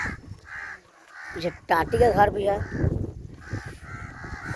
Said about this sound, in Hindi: कौआ महाराज लोग बोल रहे हैं प्यार से।